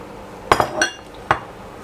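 Bok choy tossed into a cooking pot for a Thai sour curry, giving a few sharp clattering knocks against the pot with a short rustle between, close and fairly loud, no voices.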